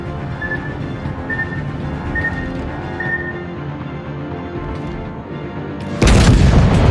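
A torpedo explosion in a naval warship video game: a steady low rumble of ship ambience with faint tones, then one loud, sudden broadband boom near the end.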